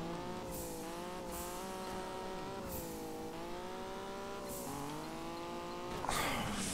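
A car drifting in the Juiced 2 racing game, its roll-caged engine holding a steady droning whine that rises and dips through the slide, and a burst of tire squeal near the end.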